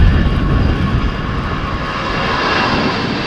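ITA Airways jet taking off from runway 36L at Amsterdam Schiphol in showery, windy weather, a loud continuous broadband engine roar with heavy low rumble, filling the whole stretch without voices.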